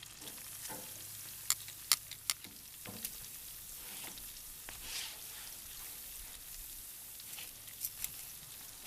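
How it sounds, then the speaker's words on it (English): Pork chops sizzling on a hot grill, a soft continuous frying hiss heard from a short distance, broken by a few sharp clicks and small crackles. "we're going to throw these pork chops on"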